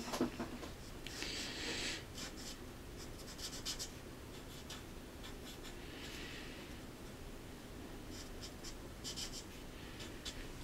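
Alcohol markers rub across paper while colors are blended, quiet repeated felt-tip strokes in short bursts of scratchy swishing, close and faint with no voices.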